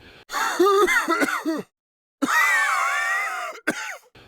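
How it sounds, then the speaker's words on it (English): A man coughs and gags in harsh, strained bursts, then falls silent briefly before a long choking, rasping fit and a final sharp cough. "the coughing grew worse, so much so that it sounded like he was choking on something."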